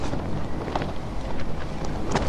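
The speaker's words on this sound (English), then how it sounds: "it's still windy" Wind buffeting a microphone outdoors in the early morning, a continuous loud rumbling roar with gusty swells and no pauses.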